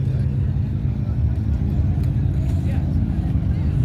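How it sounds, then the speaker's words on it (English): A Lamborghini Aventador rumbles at an outdoor car meet, heard as a steady low engine drone from some distance amid general crowd ambience. "Sounds like an Aventador making all that noise over there."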